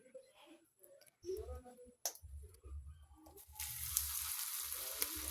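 Battered spicy onion rings go into hot oil in a pan. Light clicks and handling noises come first, then a sudden bright, loud sizzle of frying takes over and holds steady.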